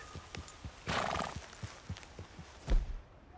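A horse in the video game Red Dead Redemption 2 gives a brief, close neigh over a rhythmic clip-clop of hooves, with a heavier thud near the end.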